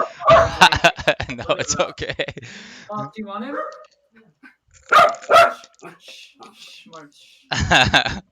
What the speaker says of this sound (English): Oh my god, that was a dog.